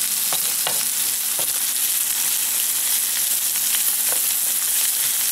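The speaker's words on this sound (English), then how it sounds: "I took some garlic and I minced it, so it's real nice. Let me mix it around a little bit." Minced garlic sizzles steadily in a hot pan for a Spam, pineapple and jalapeno sandwich, with a constant frying hiss and a few scraping stirs of a utensil against the pan, close up and with no talking.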